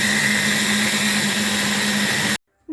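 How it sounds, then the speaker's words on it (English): A blender whirs steadily at high speed, loud and close, as it purées a curry sauce with fresh coriander, then cuts off abruptly near the end, leaving brief silence. "I'm going to blend it."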